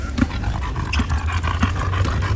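A dog pants steadily up close, quick rhythmic breaths running through the whole moment with a few faint whimpery accents and no talk.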